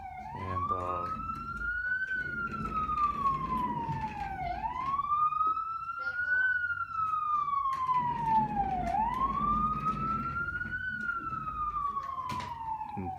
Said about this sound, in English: that was a freaking siren